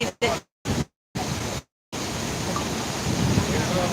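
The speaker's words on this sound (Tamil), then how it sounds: "மூணு அருவி கொட்டுதியா தண்ணி கம்மியா தான் இருக்கு" Athirappilly waterfall in Kerala, running with little water, gives off a steady broadband rush, first chopped by several brief dropouts and then flowing on unbroken.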